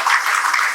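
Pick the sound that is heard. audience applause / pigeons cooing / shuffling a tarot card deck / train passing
audience applause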